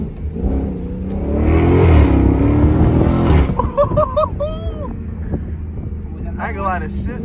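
A 500 hp Toyota Supra engine revs loudly and close by, building to a sustained roar before easing off. Afterward people talk over a lower engine hum.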